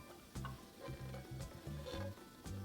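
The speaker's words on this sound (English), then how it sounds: "Pan fry until the bottom is lightly brown, 1 minute" Oil sizzling in a pan over medium heat while shrimp potstickers fry, a faint, even crackle close by with steady low hum, alone and without talk.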